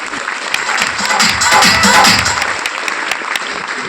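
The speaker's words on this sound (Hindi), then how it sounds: "चलो जी, ताली बजाओ एक बार इनके लिए।" Audience members at an RCM business seminar in Punjab clap together in a brief burst of lively applause that swells, then eases off.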